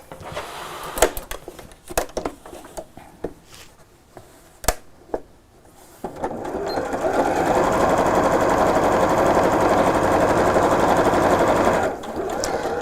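A sewing machine stitching a quilted tote bag starts after a few scattered clicks and handling knocks, then runs in a loud, steady close whir for about six seconds before briefly slowing.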